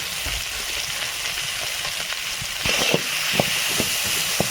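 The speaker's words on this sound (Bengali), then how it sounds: "ভালো করে একটু মশলাটা ভেজে নেব" Spices, grated ginger and chopped tomato fry in a pan with onion, a steady close sizzle with occasional knocks and scrapes of stirring.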